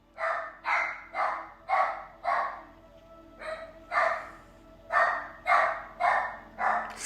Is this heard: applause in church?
no